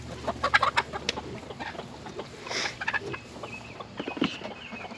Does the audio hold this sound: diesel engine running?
no